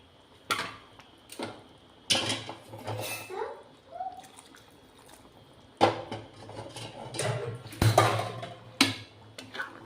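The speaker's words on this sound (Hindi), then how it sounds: "गरम पानी दे देली।" Hot water poured into a pot of chicken curry, with splashing and clattering pot and utensil sounds in irregular close bursts, separated by quieter gaps.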